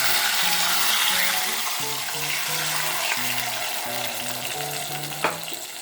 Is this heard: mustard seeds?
yes